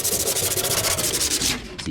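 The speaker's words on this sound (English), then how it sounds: "So make it more obvious by sanding them" Steady back-and-forth sanding on the metal fender of a 1964 Impala, a rhythmic abrasive rasp repeating quickly and loudly up close, stopping briefly near the end.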